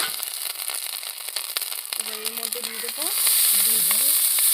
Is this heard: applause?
no